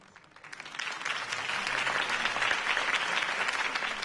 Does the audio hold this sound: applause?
yes